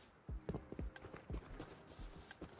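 Horse hooves clip-clop in the survival video game Rust, a quick irregular run of close, thudding steps over a low background hum.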